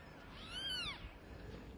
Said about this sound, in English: rescuers found the mother along with her 4 newborn kittens